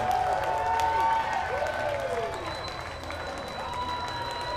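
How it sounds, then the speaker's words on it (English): Baseball stadium crowd at a minor league game roaring and cheering after a home run, a broad sustained wash of noise with whistles and shouts, fading slightly, under an announcer's excited talk. "Listen to this crowd."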